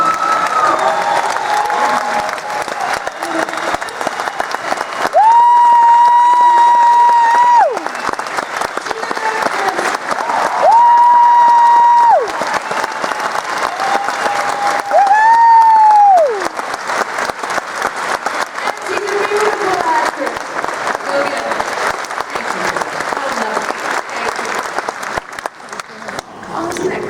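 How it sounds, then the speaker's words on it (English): Loud, sustained applause from a large crowd, continuous clapping that never lets up, joined by a few long held tones and scattered cheers. "please stand for a round of applause"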